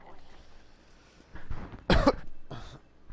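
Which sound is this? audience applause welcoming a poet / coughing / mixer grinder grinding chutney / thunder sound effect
coughing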